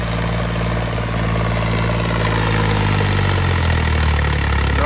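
A John Deere 5038D turbo tractor engine idles close by with a loud, steady low rumble and a slight shift in pitch near the end.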